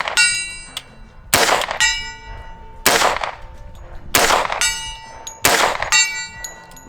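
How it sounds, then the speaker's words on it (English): .45 ACP rounds fired at a steel target more than 100 yards away, giving four or five sharp shots, each followed by a ringing metallic clang, evenly spaced and loud. "You hear those sluggish rounds, thunk."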